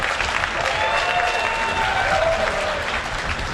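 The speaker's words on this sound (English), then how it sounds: "I get applause for playing bad." Steady, dense applause and cheering from a convention crowd at a live gaming event, held at an even level throughout with no distinct voices.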